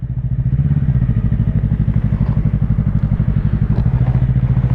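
Yamaha YZF-R3 motorcycle pulling away on a hill at Piedmont Park, its engine loud and close with a steady throbbing, pulsing idle-to-rev rumble lasting throughout.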